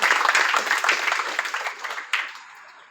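Audience applause for an Indian international handball player at a school honouring ceremony, a dense burst of clapping that starts loud and gradually thins out, with a brief renewed flurry near the end.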